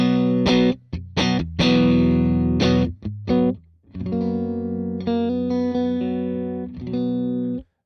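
Michael Kelly Strat electric guitar on the fourth pickup position, clean tone through amp captures, plays choppy strummed chords followed by ringing sustained notes, close and alone with no talking.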